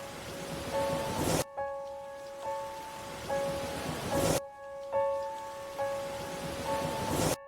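Heavy rain falls in a dense, hissing wash for a horror story soundscape. It cuts out abruptly twice as the loop restarts, and faint sustained eerie tones ring beneath it.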